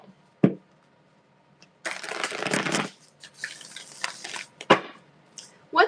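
Tarot cards are shuffled in a few quick riffling bursts, with soft taps and clicks between them, close and fairly quiet.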